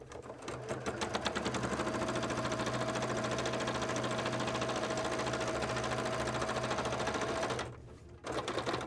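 A sewing machine runs at a steady fast stitch on cosplay arm wings, pushed hard, close and loud, then stops briefly before starting up again.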